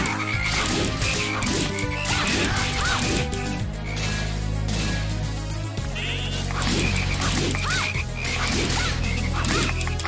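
Frogs croak repeatedly in the Castlevania: Portrait of Ruin video game, a steady run of short croaks over constant, loud game music.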